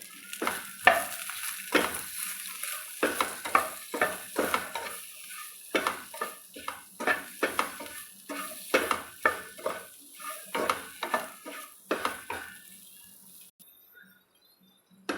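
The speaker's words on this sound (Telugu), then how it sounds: "కొంచెం నూనె వేసుకొని బెండకాయ ముక్కలు వేసి అర్ధ కిలో బెండకాయలండి వేసి ఫ్రై చేసుకోవాలి" Okra pieces fry in a little oil with turmeric and a pinch of salt while a spatula scrapes the pan in quick, regular strokes over a steady sizzle, close by and without speech.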